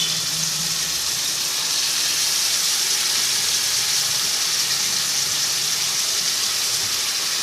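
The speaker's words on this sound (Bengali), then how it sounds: "এবার মাংসটা দিয়ে দেবো" Mutton drops into a hot pan of fried onion and tomato, producing a loud, steady hiss of sizzling that carries on unbroken with no voices.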